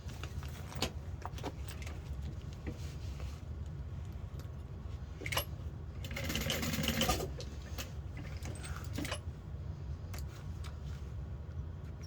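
A sewing machine bastes backpack pieces with a quiet, steady mechanical hum, broken by a brief louder run of stitching in the middle and scattered clicks and taps from handling.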